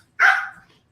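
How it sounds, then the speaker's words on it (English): A single sharp dog bark, fairly close and loud, rising suddenly and trailing off into a quiet room. "sorry about the dog, y'all"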